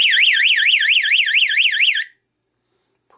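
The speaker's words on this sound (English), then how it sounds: "it would connect this circuit and the alarm and the strobe would then go off" A loud electronic alarm from a float-activated water alarm for an aquarium sump wails in a rapid up-and-down sweeping tone for about two seconds, then cuts off abruptly into silence.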